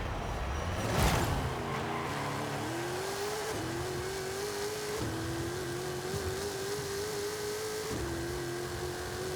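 A race car in Forza Horizon 5 revs hard, then climbs through rising engine tones broken by several quick gear shifts, loud and close throughout.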